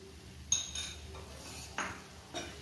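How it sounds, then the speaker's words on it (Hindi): A utensil stirs macaroni with soy sauce in a pan, giving three faint metallic clinks and scrapes against low, quiet room noise. "और इसको अच्छे से मिक्स करेंगे"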